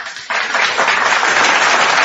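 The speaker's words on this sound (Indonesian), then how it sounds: "kami tepuk tangan untuk itu." A crowd breaks into loud, dense hand clapping that starts abruptly and holds steady as a continuous wash of applause, with no talk over it.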